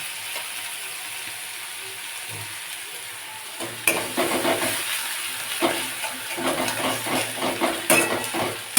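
Garlic paste hitting hot oil in a pan for a curd fish curry: a soft hiss at first, then a sudden louder sizzle with bursts of stirring and scraping, close by.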